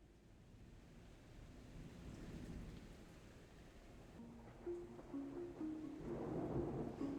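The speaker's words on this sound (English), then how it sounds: "The thunderstorm only adds to the atmosphere." A thunderstorm with steady rain in the game Remember the Flowers: a broad, rolling rumble of thunder over constant rainfall, swelling louder near the end, with a faint tonal hum rising underneath.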